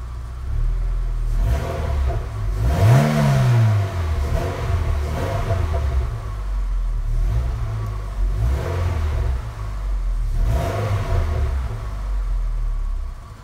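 A car engine running with its stock exhaust and an emptied catalytic converter, giving a steady low rumble with a rising rev near the start and further swells, close and fairly loud, with no talking.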